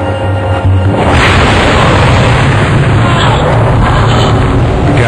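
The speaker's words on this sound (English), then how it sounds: "The gasoline fumes ignite, causing a huge explosion." Gasoline fumes ignite aboard a boat, setting off a huge explosion: a loud, sustained roaring blast that fills the whole clip and never fades.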